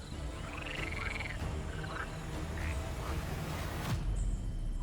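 African bullfrog croaking repeatedly in the wild in Kenya, a run of deep, rough calls spaced through the clip over a steady outdoor background, with no talking.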